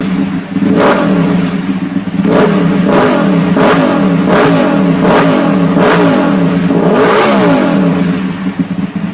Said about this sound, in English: Who doesn't love that V-twin grumble?